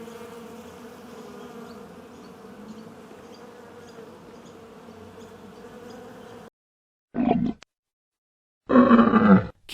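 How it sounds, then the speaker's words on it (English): A bee buzzes in a steady, faint drone for several seconds, then cuts off, followed by two louder, harsher bursts of buzzing after a short silence. "Bee."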